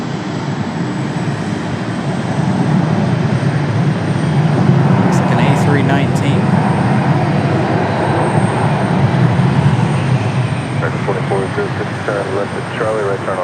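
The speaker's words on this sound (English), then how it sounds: "Got our next arrival touching down already." American Airlines Airbus jet landing at Raleigh Durham airport, a loud continuous engine roar swelling and holding as it rolls out, with faint chirps and clicks in the background.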